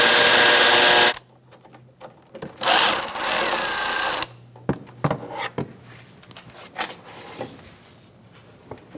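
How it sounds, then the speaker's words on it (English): A power tool whirs in loud bursts while a bolt is removed during a washer reservoir replacement on a 2004-2009 Mazda 3, with two long runs followed by shorter clicks and clunks of handling close by. "Now we're going to sneak in here and take out this bolt."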